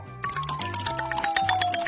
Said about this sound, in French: Alors, je vais ajouter de l'eau.